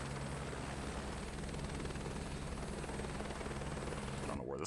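A helicopter flies in Microsoft Flight Simulator 2024, a steady droning rotor and engine hum that holds at an even level throughout, alone with no talk.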